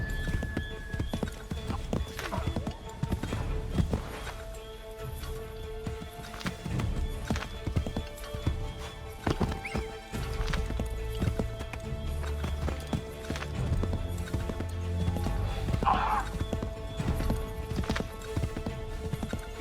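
Horse hooves clip-clop at a gallop through a game soundscape, the steady running beat carrying across nearly twenty seconds, with a brief neigh and low background music.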